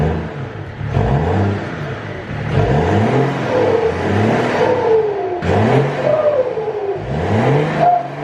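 A BMW E60 530d diesel with its rear exhaust box deleted revs repeatedly, loud and close, each throttle blip rising and falling in a throaty sweep over a steady engine drone, with no talk.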